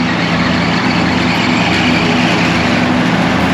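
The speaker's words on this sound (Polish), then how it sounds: "Jeździ traktorem." Farm tractor mowing grass at harvest time, its engine running close by in a steady, loud, low drone with an even rhythmic throb throughout and no talking.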